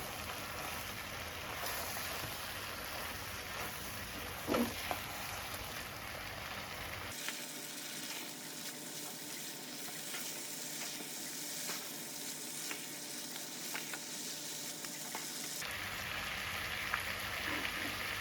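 Bottle gourd and country chicken curry sizzling steadily in a pan over low heat while stirred, a dense hissing crackle with occasional utensil knocks, close and fairly quiet.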